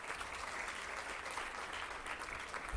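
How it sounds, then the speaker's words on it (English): Audience at a debate competition applauding, a steady, even patter of many hands clapping throughout, moderately distant and fairly soft. "Can we have a big round of applause for all these people?"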